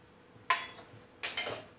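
A metal spoon clinks twice against a pan on a gas stove over medium-high flame as refined oil is spooned in for a potato-tomato curry, two short close knocks with a faint hiss between.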